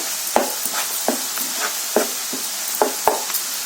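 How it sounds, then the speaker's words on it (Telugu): Garam masala stirred and fried in hot oil for chicken red roast, a spoon scraping the pan in repeated strokes over a steady sizzle, loud and close with no voices. "మనకి ఈ ఆయిల్లో కొంచెం ఫ్రై అయితే మంచి ఫ్లేవర్ వస్తుంది."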